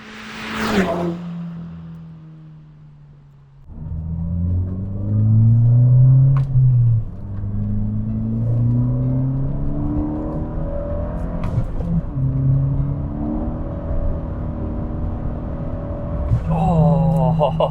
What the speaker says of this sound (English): So let's take it back out on the road and see how it drives.